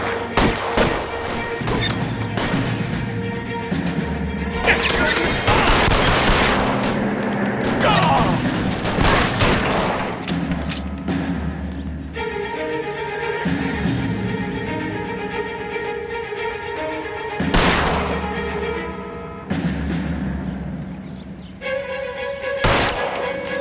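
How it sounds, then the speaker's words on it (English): Sustained bursts of gunfire and booming impacts in a 1940s detective shootout from L.A. Noire, steady and dense across the whole stretch, with voices calling out over the shooting and swelling music beneath. "Suppressing fire."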